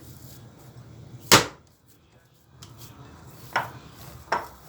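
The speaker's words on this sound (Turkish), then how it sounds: "sert bir şekilde tabağımın içerisine atıyorum kıyma harcımı" Minced meat köfte mixture thrown hard into a plate by hand for Ramadan iftar: three sharp, wet slaps spaced a couple of seconds apart, the first loudest, over a quiet kitchen background.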